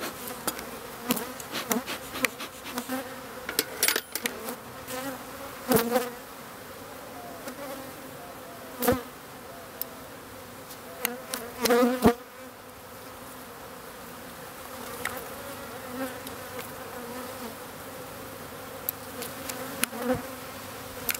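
A bee colony buzzes steadily, a dense hum of many insects with individual bees zipping close by in louder passes, and no voices.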